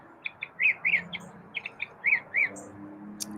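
A pet bird in an oak tree gives a series of short, clear chirps in pairs and small clusters, fairly close and distinct over a quiet outdoor background, with no talking.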